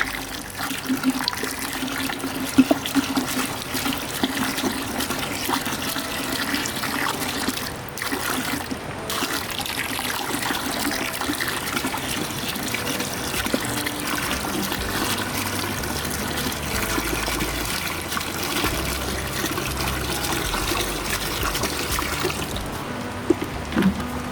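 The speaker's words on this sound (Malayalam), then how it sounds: "ചുണ്ണാമ്പ് ലായനിലേക്ക് നമ്മൾ തുരിശിലായനി ലായനി ചേർക്കുകയാണ് ഇങ്ങനെ ഇളക്കിക്കൊണ്ട് വേണം കുറേശ്ശെ വേണം ഒഴുകി" Copper sulphate solution trickles slowly into lime solution while being stirred to make Bordeaux mixture for spraying cocoa, a continuous close pouring and splashing of liquid that runs steadily throughout.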